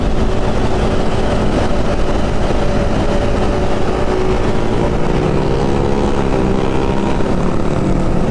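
A CB motorcycle engine, likely with an aftermarket exhaust, drones steadily and loudly through a passing pass-by, blending with dense street traffic noise on a Jakarta road.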